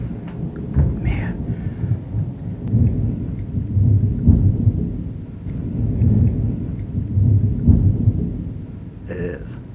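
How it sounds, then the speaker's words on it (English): Thunder rumbles long and loud through a thunderstorm, with steady rain under it and brief voices talking near the start and end. "Is that lightning? Wait for it. That was lightning."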